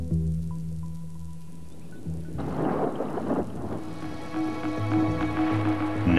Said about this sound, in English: if there's prolonged rainfall, splashes of rain that hit the sporodochia